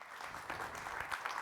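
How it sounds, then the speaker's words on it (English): Brief, soft applause from an audience at a national education report launch event, steady clapping heard at a distance. "you definitely and all the team deserve a round of applause"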